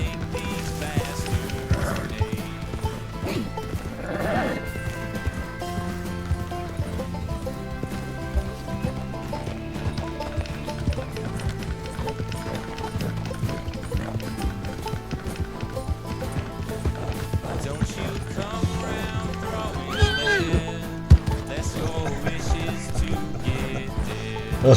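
Horse hooves clip-clop in a steady run with a brief neigh, from a horse in the Red Dead Redemption video game, set against continuous game music at an even level.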